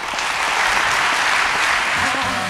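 Thunderous applause at a gala in Lyon in 2016 greets a musician, a dense, loud, sustained roar of clapping from a large audience.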